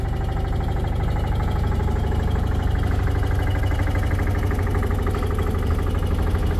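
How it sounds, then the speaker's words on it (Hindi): An Eicher 222ES single-cylinder diesel engine runs steadily inside a refurbished silent 15 kVA generator, giving a constant, even low thumping drone, close and unbroken throughout. "सेल्फ जनरेटर स्टार्ट हो चुका है दोस्तों, देख सकते हैं आप बिल्कुल साफ इंजन चल रहा है"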